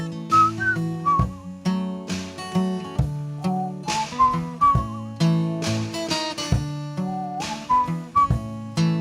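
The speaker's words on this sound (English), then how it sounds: "I especially like the whistling part." A melodic whistled tune carries over a musical accompaniment with steady rhythmic notes, the whistling clear and prominent throughout the passage.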